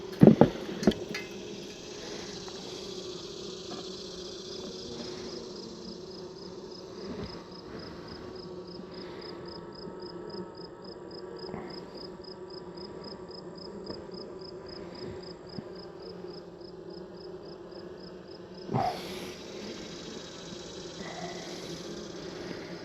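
Honey bees buzz around an open hive while a beekeeper smokes them off the comb, a continuous close, droning hum with a few clattering knocks at the start and again near the end.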